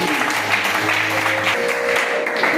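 A congregation at a church service applauds loudly, a steady, dense clatter of many hands that holds at an even level throughout, with no talk over it.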